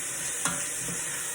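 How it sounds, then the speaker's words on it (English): Steady frying sizzle of vegetables in a pot for minestrone soup, with a couple of brief stirring scrapes, close up, no voices. "Frying up. Sorry if that's too loud."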